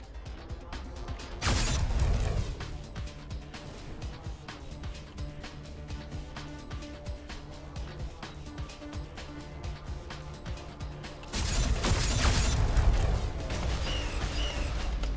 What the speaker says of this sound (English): Oh god, they do broadsides.